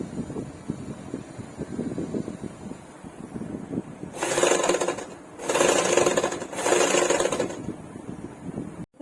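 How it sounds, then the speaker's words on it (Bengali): A sewing machine stitches blouse fabric in three loud whirring bursts separated by short pauses, following a stretch of quieter ambient noise. "এবারে মজবুত হওয়ার জন্য ঠিক আরেকটা সেলাই দিয়ে নেবো উপর থেকে।"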